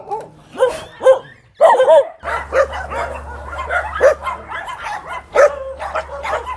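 Several young dogs bark and yip in short bursts, close by, with a steady low hum underneath and some whimpering between barks.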